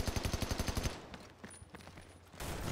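Rapid automatic gunfire from the video game Army of Two: The Devil's Cartel, a fast rattling burst of about a dozen shots up front, then scattered quieter shots and game noise.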